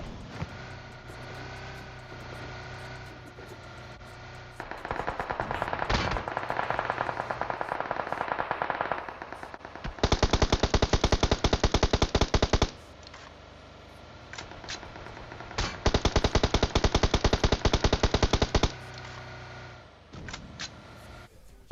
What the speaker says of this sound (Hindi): और चलाते हैं ये लोग गोली दबा के।